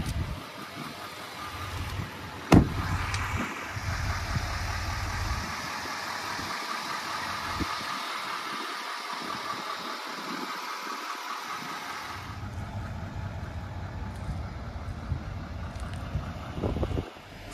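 A 2023 Chevrolet Silverado 2500HD crew cab's 6.6-liter Duramax diesel V8 idles steadily at close range, a continuous low rumble with some wind buffeting and a brief knock near the start.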